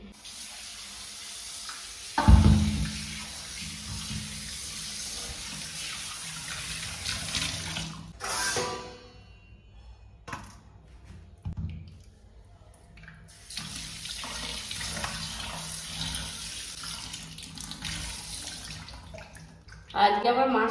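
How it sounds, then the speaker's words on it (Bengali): Tap water runs in a steady stream while a hilsa fish is washed in a sink, with a sharp knock near the start, brief pauses and a voice talking at times. "এখন আমি মাছটা ভালো করে ধুয়ে নিই।"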